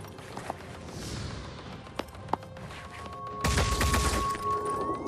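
Gunfire striking an aircraft in the Phoenix Point video game: a few sharp isolated cracks, then a louder burst of dense impacts and rumbling fire near the end, with no talk over it.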